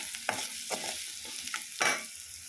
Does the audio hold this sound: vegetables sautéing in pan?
yes